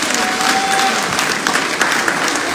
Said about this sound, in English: why people like to clap for negative things so long?